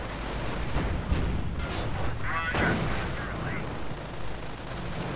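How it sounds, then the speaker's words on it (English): Anti-tank gun fire striking Panther tanks in a real-time strategy game: a dense battle din of repeated gun reports and impacts, loud and continuous throughout, with a voice commentating over it. "Panthers taking heavy damage from the anti-tank guns"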